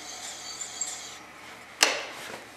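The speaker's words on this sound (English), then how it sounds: "I'll use the drill bit here, just run it in by hand to clean that hole out." A drill bit is turned by hand to clean out the hole in a wooden Christmas ornament on the lathe, giving faint scraping rubs followed by one sharp louder scrape.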